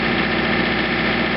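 A John Deere 110 TLB tractor engine runs at a steady idle-like drone with its snow blower engaged, loud and close, a continuous low rumble with no pauses or voices.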